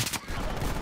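A rapid burst of gunfire in the video game Enlisted rattles, dense and loud with overlapping shots, over a busy background.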